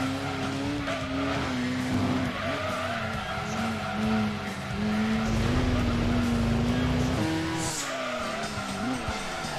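A Corvette in Gran Turismo 2 slides with a steady engine drone and long tire squeals rising and falling across the run, loud and close.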